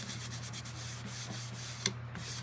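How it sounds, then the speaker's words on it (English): A paper towel buffs wax off a wooden surface in quick repeated rubbing strokes, soft and close, with a faint low hum underneath. "I just take a paper towel and buff it off."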